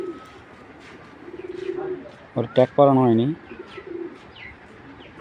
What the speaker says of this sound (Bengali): এটা কিন্তু বিআরপিএলের কবুতরের একটা বাচ্চা